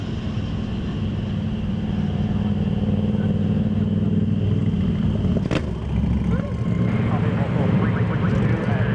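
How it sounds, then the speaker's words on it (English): A motorcycle engine near an airport drones steadily under a broad roar of aircraft and traffic noise, with a voice talking over it throughout. "Yes, you have a motorcycle."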